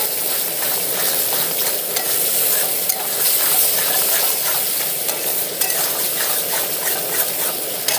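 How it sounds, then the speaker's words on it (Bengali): Spice masala with salt being stir-fried for doi katla, made with katla fish from a home pond, a loud, close, continuous sizzle with rhythmic scraping and stirring of a spatula in the pan. "এগুলো দিয়ে আমি আবার ভালো করে মশলাটাকে কষিয়ে নেবো কিছুক্ষণ"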